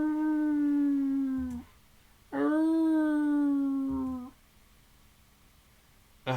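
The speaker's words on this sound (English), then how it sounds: "The beastly howling is beginning to give me a headache." Long, mournful dog howls in the Tsukihime visual novel, two drawn-out wails separated by a pause, each rising then sliding downward, close and clear with no talk.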